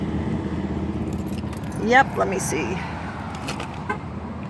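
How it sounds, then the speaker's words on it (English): Keys jangle close by as a car is locked in an outdoor parking area, followed by a short lock chirp, with someone speaking briefly and faint traffic in the background. "Locking my car."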